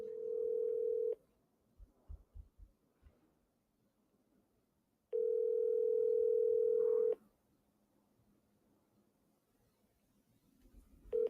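A telephone tone while dialing the Cook County Assessor's Office: two steady, loud tone bursts of a couple of seconds each, separated by quiet gaps with faint clicks, and a third beginning at the end.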